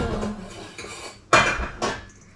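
A metal cooking pot and utensils clatter in a home kitchen in Finland, with a few sharp clanks and scrapes standing out close and loud, the last two bursts about half a second apart.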